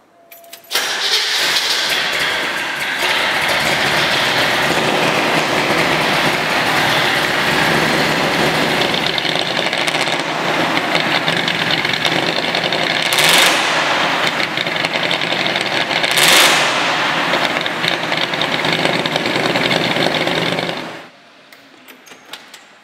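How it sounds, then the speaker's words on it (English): A 1969 Chevy Camaro Z/28 engine fires up and runs loud and close through a chambered exhaust, a steady snarling rumble with a couple of sharp revs before it shuts off near the end. "the engine snarls and barks like a real competition piece, especially with that chambered exhaust system"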